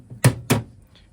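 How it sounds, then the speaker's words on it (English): A small 12-volt fridge door in a Sol Dusk travel trailer is pulled open, giving two close, sharp thunks about a quarter second apart, then quiet. "If we open up the fridge, we got a small fridge with an ice box as well."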